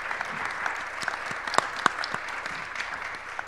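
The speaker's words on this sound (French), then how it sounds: "on peut vous applaudir pour la deuxième fois pour certains" Scattered applause from a conference audience, fairly faint and sparse, with individual claps standing out against a quiet room.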